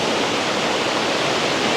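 Tumpak Sewu waterfall roaring as a dense, unbroken wash of falling water, loud and constant throughout with no voices.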